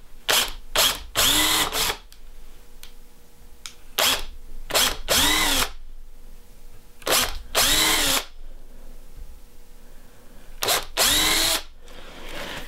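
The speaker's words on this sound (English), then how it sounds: "take this tiny 1/16 drill bit and make a pilot hole" A power drill with a tiny 1/16-inch bit bores pilot holes into wood for a Dutch door hinge, in repeated short bursts of whining spin-up and slowdown, loud and close with brief pauses between.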